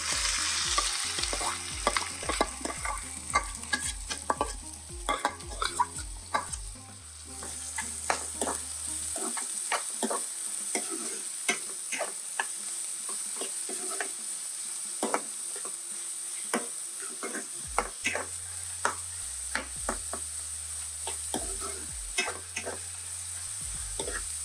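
Chopped onions sizzling in a pan for egg bhurji, with steady frying hiss and repeated sharp scrapes and taps of a spatula stirring, close and clear, with no talking.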